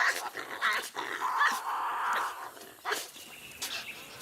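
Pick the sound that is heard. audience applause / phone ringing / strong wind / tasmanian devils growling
tasmanian devils growling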